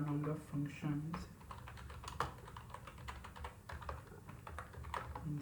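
Quiet, steady clicking of computer keyboard keys as C code is typed, irregular bursts of keystrokes with a low murmur of speech underneath at the start.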